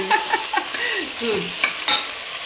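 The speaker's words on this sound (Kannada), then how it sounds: "ಅದನ್ನು ಕೂಡ ಇದಕ್ಕೆ ಸೇರಿಸಿ ಡೀಪಾಗೆ ಫ್ರೈ ಮಾಡ್ತೀನಿ" Tomatoes frying in a pan for vegetable pulao, with intermittent stirring and scraping strokes over a soft, close sizzle and no talking.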